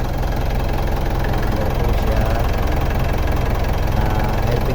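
A 2012 Mitsubishi Montero Sport common-rail diesel engine idles close by with a steady, knocking rumble and no talk over it.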